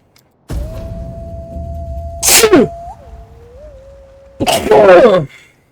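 Two loud, sharp sneezes a couple of seconds apart, close up, over a faint steady hum.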